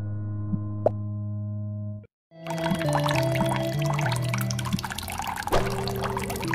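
Salt water pours into a mug in a video game, a steady splashing pour after a brief silent gap, with soft electronic tones underneath.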